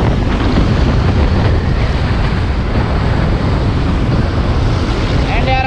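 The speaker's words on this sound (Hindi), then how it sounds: "बहुत ज़्यादा धूल है एंड बहुत ज़्यादा विंडास है अपोजिट वाले डायरेक्शन में" A strong headwind roars into the microphone while riding a Bajaj NS200 naked motorcycle on a dusty road, a loud continuous rushing blast with no speech.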